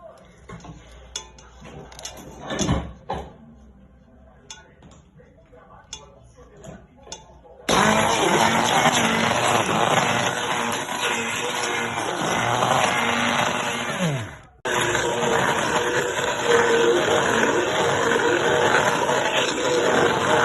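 A blender grinds coriander, celery, onion and water, roaring loud and steady after some quiet kitchen clatter, with a brief pause before it starts up again.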